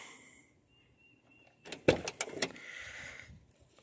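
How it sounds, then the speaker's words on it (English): A truck door is opened: a cluster of sharp mechanical clicks and a latch clunk close by, loud against a quiet background, followed by a short rustle, with no talking. "let me open the door here"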